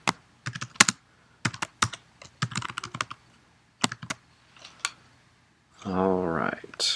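Typing on a computer keyboard, entering a file name: bursts of sharp key clicks in quick irregular runs with short pauses, close and fairly quiet, ending in a brief voice.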